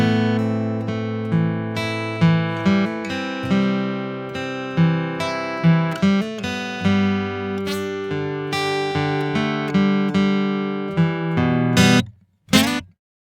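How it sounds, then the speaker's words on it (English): An electric guitar plays a rhythm riff slowly, a clean arpeggiated pattern of ringing picked notes repeating for about twelve seconds, close and clear, ending with a brief final strum after a short gap. "let's just play the whole thing nice and slow"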